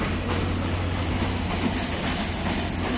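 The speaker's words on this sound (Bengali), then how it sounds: "ট্রেন এসে গেছে" A train pulls into Noapara junction station, a steady loud rumble of rail cars with a low mechanical drone and faint wheel squeal throughout, heard from the platform near an overbridge.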